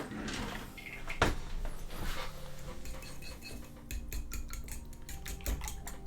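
Eggs being whisked in a bowl for Japanese katsu chicken curry, the utensil clattering rapidly against the bowl with a scratchy, clinking rhythm that grows busier toward the end, with no talk over it.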